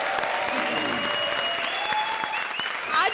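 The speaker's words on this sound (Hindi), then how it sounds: "जोरदार तालियां चाय के लिए" A studio audience on a comedy show claps in a sustained, even burst. A steady tone rings under the applause, and a brief vocal sound rises near the end.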